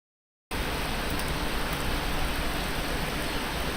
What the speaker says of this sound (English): when I talk, you guys like hear the rain. My window's open.